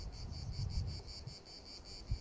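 Honey bees, drones among them, buzzing inside a hive in September, heard as a steady, close insect drone with a high whine that pulses evenly throughout, no voices.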